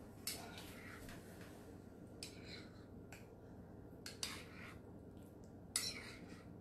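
Cheese stirred into a pot of Southern-style potato soup, soft scrapes with a few sharper clinks of spoon against pot, quiet and close over faint background hum.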